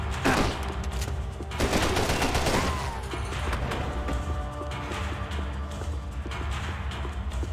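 Gunfire in the video game Max Payne 3, with a burst of rapid shots early on, then quieter game ambience.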